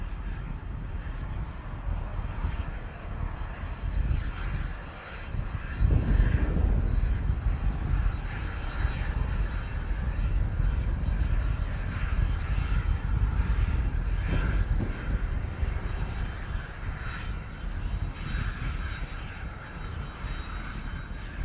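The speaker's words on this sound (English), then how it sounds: "This aircraft just hopping across from Blackpool." Aircraft flying near Manchester Airport on a short hop across from Blackpool in strong winds, a steady broadband engine roar that holds for the whole stretch with a louder swell partway through, no talking.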